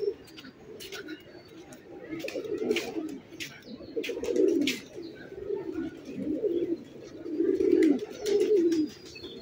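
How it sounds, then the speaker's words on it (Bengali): Soft throaty cooing from pigeons at Mirpur zoo in Dhaka swells and fades in repeated bursts, with sharper small-bird chirps scattered above it and a voice briefly present in the background. "পায়রার ডাক শুনতে পাচ্ছেন আশা করি।"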